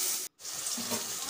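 Chopped onions and green chilies sizzle in hot oil with mustard seeds, a steady close hiss that breaks off for a moment and then resumes.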